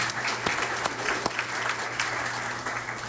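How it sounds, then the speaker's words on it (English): An audience at a behavioral health prevention presentation bursts into dense, steady clapping, with a few sharper individual claps standing out from the crowd. "It's okay to clap because they're amazing."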